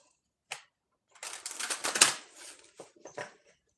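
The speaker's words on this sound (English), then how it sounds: "I think I done shuffled the damn deck enough" A deck of tarot cards being shuffled close up, with a brief riffle followed by a longer run of rapid papery flutters and a few short slaps as the cards settle.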